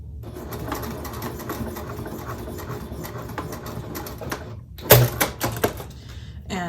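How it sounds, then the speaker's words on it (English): A sewing machine stitching down a fabric pocket, running in a fast steady mechanical patter up close, then stopping abruptly and giving way to a few clunky handling sounds. "So I'm just gonna go right back to my machine and sew that down."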